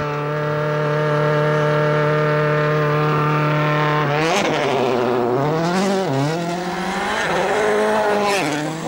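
A World Rally car on a snowy Norwegian special stage at minus 32 degrees, engine holding a steady loud drone before revving hard through repeated rising and falling surges as it launches and shifts, close and with no talk.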